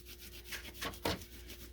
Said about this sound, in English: So burnish it down onto your cardstock.